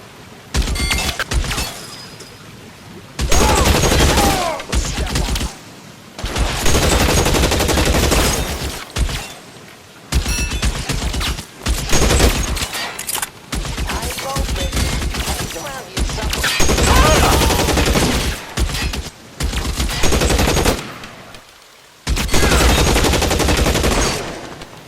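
Heavy bursts of gunfire in a L.A. Noire gunfight, loud sustained volleys separated by brief gaps, with voices occasionally heard amid the shooting.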